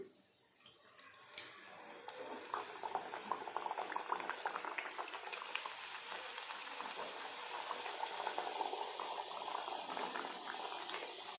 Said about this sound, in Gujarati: તો આપણું તેલ એકદમ સરસ ગરમ થઈ ગયું છે તો હવે આપણે પૂરીને નાખીશું